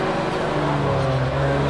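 A race car in a multiclass racing game passes close on the left, giving a steady, loud engine drone with a sustained low tone and no pauses.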